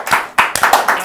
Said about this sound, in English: I'll give you a round of applause for that.